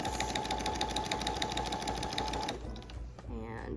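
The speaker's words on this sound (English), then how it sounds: "now we can start sewing along the seam allowance" A sewing machine stitches a seam on a small-animal fabric hammock, running in a fast, steady mechanical rattle for a few seconds, then stopping abruptly, close and loud, with a voice talking over it.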